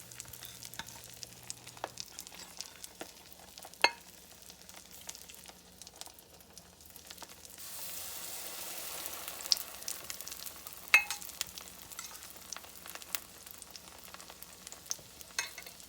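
Rice patties frying in a skillet, a faint steady crackle and sizzle with scattered soft pops and a few louder utensil taps, a brief swell of hiss midway, close up and quiet.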